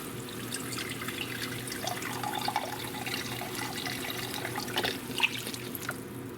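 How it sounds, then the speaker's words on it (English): Beef broth is poured into a pan over low heat while cooking French onion chicken thighs, making a soft, continuous liquid trickle and light splashing at a low level, close by, with no voices. "we're going to put in another cup of beef broth"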